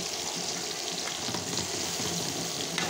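Bitter gourd slices frying in oil for a mustard-gourd dish, a steady dense sizzle that stays close and even throughout, with no talking.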